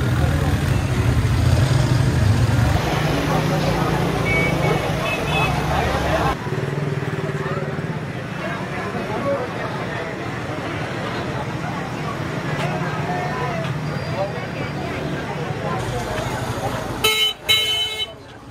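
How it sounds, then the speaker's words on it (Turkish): Busy street traffic in a Multan market in Pakistan: a steady roar of engines and motorcycles with scattered horn toots, a crowd murmur and people talking throughout, ending with a burst of clattering near the close. "Trafik tam olacak."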